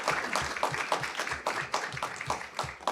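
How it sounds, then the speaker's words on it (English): An audience claps at a university aerospace agreement signing ceremony, a fairly close, uneven round of hand claps lasting a few seconds with no talk over it. "Ladies and gentlemen, let's give them one more round of applause."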